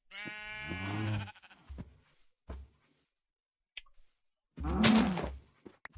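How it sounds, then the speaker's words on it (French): Cows mooing in Minecraft, a low drawn-out moo with rising harmonics near the start, then a few short clicks and a second loud moo-like burst near the end, with quiet gaps between. "Ah, bah voilà les petites vaches."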